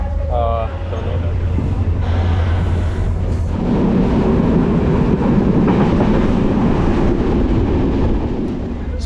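A passenger train in Sri Lanka rumbles along steadily with a low, constant roar and rattle, voices briefly heard near the start over the noise.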